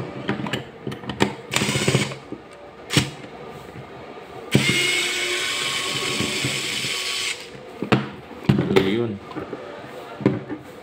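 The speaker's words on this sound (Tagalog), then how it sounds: "buksan natin yan gamit tong ilat natin na pang screw" A screwdriver works the battery cover screws of a Lotus multimeter, bursts of whirring driving separated by pauses, close and fairly loud, with someone talking between them.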